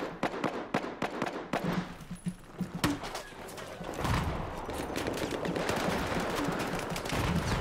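Rapid gunfire in Battlefield 4 beta multiplayer: sharp, close shots in quick bursts at first, then denser sustained firing and rumbling explosions blending together, with no talk.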